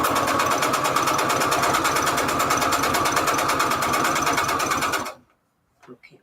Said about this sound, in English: Okay, we're still sewing.